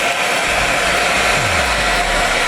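A hair dryer switched on at full power gives a loud, steady broadband roar close by, with a low hum sliding down as the motor settles, aimed at a blank sheet of paper in a pen life-hack test.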